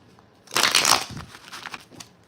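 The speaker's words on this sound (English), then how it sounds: "Let me get a shuffle." A deck of tarot cards is shuffled close by in one short, crisp riffling burst that fades into softer rustling.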